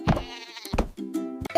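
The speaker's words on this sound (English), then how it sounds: "G is for goat." A goat bleats in a few short, wavering calls, close and fairly loud, with brief pauses between them.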